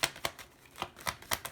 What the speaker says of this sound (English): I've just got to make sure that the cards shuffle a bit properly now, but they haven't been shuffling properly